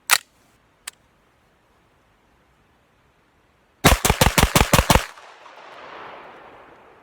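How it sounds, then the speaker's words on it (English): A SIG FM9 pistol fires at a target: two isolated shots, a pause, then a fast string of about seven sharp, loud reports, followed by a faint lingering echo. "it looks like I got 1, 2, 3, 4, 5, 6, 7 shots out of the FM9"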